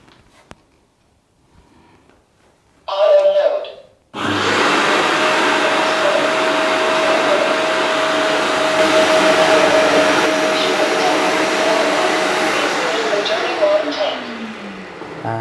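A Tineco Carpet One carpet washer cleaning a rug: a brief whirring burst, a pause, then a loud sustained motor and suction roar that holds steady for about ten seconds before winding down.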